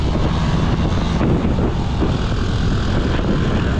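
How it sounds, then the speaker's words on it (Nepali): Strong wind buffets the microphone during a motorbike group ride with a Yamaha R15, a loud, constant low roar and rumble that fills the whole stretch with no break and no voices. "ओ कस्तो हावा चलो है क्यासे यहाँ पछाडि सबै छप्रिएर छ यहाँ हावा चलेर म बोल्न नि पाएन"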